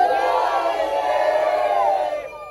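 Crowd at a Batalha Da Leste rap battle final in São Paulo's Zona Leste shouts back loudly in unison, a sustained roar of voices lasting about two seconds before fading.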